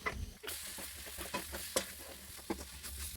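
Chicken masala, pepper and spice powders roasting in a hot pan for Kerala-style chicken curry, a steady close sizzle broken by a few scraping stirs of a spoon, with no talking.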